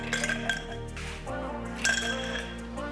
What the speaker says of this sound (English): I'm gonna start adding ice to the mixing glass